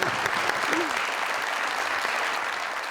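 Studio audience applause at a Pakistani talk show, a dense continuous wash of clapping that stays loud and steady throughout, with faint voices mixed beneath.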